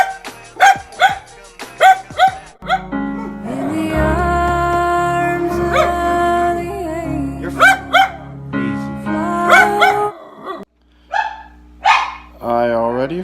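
A dog barks in short, loud bursts close by at the start and end, with a long stretch of sustained tonal whining and yipping in the middle.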